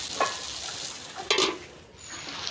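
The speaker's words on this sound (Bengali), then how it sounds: "আমি এবার ঢাকনাটা উঁচু করে আলুটাকে নেড়ে চেড়ে নিচ্ছি।" Potatoes frying in a pan, stirred with the lid lifted, give a low steady sizzle with a couple of brief scraping stirs, close and moderately quiet, no voices.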